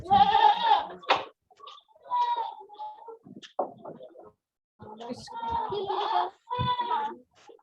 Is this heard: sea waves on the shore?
no